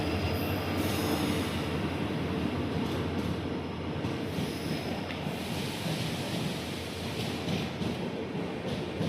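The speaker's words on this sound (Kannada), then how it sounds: "ಈ ಟ್ರೈನ್ ಬಂತು, ಇದು ಜನರಲ್ ಕೋಚ್ ನೋಡಿ." Train arriving at a station on the Koppal to Badami route, a steady, close rumble of rolling rail cars with faint wheel squeal, continuous and moderately loud throughout.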